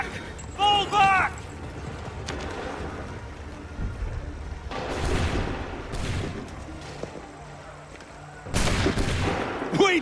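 Musket volleys boom in Assassin's Creed 3 battle, several separate loud crashing bursts with gaps between them, mixed with shouted orders and voices over a low battlefield rumble.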